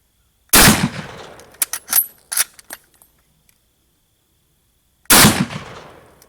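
A Type 99 Arisaka rifle in 7.7mm fires sharp, loud shots at pumpkins, with a report followed by scattered smaller impacts and debris clatter, then silence before a second shot.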